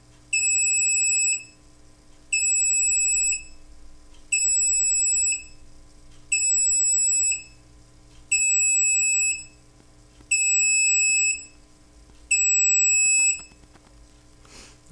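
An Arduino Uno alarm system beeps during its arming countdown: seven loud, high, steady electronic tones about a second long, evenly spaced roughly two seconds apart, over a low hum.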